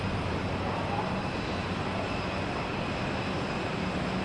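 A NetJets Challenger business jet takes off at Boston Logan Airport, a steady, loud broadband engine roar that holds evenly throughout without any break.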